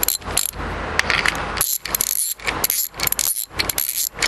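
Ratchet wrench tightening bolts on GMC rear bearing plates for a hot rod build, quick bursts of sharp clicking repeated in several close, loud strokes separated by short pauses.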